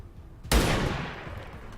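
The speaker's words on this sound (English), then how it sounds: "Let's take the shot with a sniper rifle." A single sniper rifle shot in the video game XCOM 2, one sudden loud blast followed by a long, slowly fading roar, with no talking over it.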